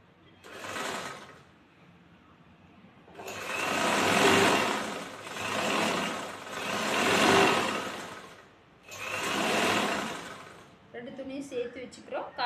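A sewing machine stitches a quarter-inch seam joining two layers of fabric for a churidar, running in several bursts of rapid whirring with quiet pauses and talking between runs.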